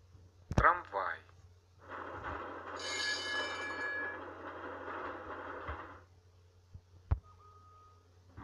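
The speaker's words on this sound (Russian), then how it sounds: "Трамвай." A tram runs along rails with a steady rumbling roll and a high metallic squeal rising over it midway, lasting around four seconds; brief spoken words come before and after, with clicks in the quiet gaps.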